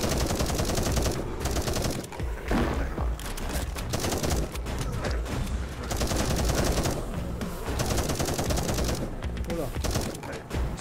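A submachine gun in the video game 10 Miles To Safety fires rapid, continuous loud bursts with only brief gaps, dense rattling across the whole stretch.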